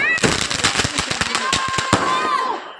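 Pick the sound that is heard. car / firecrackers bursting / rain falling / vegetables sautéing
firecrackers bursting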